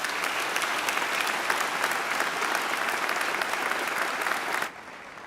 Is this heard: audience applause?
yes